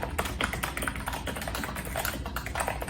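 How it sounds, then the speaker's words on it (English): Rapid, soft typing on a computer keyboard, a quick flurry of muffled key presses with a slightly clicky edge, close up and alone. "As you can hear from that quick typing test."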